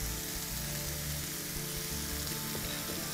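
An egg goes into a hot pan while Korean spicy fried rice cooks, and a dense, steady sizzle holds from start to finish, loud and close with a low kitchen rumble underneath and no talking.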